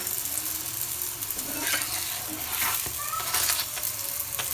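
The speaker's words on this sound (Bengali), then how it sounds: "আর এই দেখুন আমার পরোটা ভাজা অলমোস্ট ডান" A paratha fries in a pan with a steady, close sizzle and occasional scraping and stirring sounds, and no one speaks.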